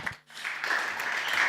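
Applause from the audience at a seminar on fighting illegal fishing, a brief swell of clapping that builds quickly after a short dip and holds steady at moderate volume.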